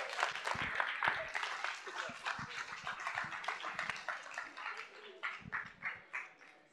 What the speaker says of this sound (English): if we could give our College of Agriculture senators a round of applause